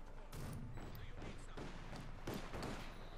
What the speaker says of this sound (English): There were just 2 heavy mortars constantly firing back. Just the sound of the heavy thud and, you know, explosion there afterwards.